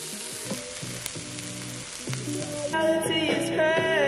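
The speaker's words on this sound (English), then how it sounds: "sausage and onion is on" Sausages and onion sizzle in a pan over a campfire in the woods, a steady close frying hiss with tonal ringing sounds layered on top.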